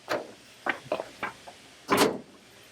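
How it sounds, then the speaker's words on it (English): Lower door of an Oce VarioPrint 6000 production printer being shut, a few light clicks and knocks of panels settling followed by one firmer closing thud, close up with no talk. "Close the lower door."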